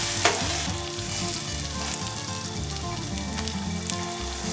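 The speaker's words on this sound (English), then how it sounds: "Okay, we're just going to let the bacon cook and do its thing." Okonomiyaki with bacon sizzling on a small hooded griddle, a loud, steady, close frying hiss with crackles throughout and no voices.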